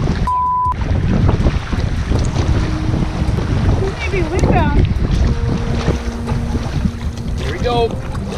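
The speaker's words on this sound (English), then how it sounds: "Man, that's blowing in quite the wind now." Strong wind gusts over choppy waves on a Killarney western coast canoe trip from Baie Fine, a steady loud rush of wind and water with paddle splashes close by and a few faint whistling tones throughout.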